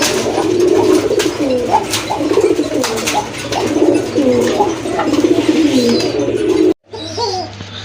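A single knot pigeon at a pigeon market coos loudly and clearly, repeated rolling calls close up for several seconds before a brief cut, then fainter cooing.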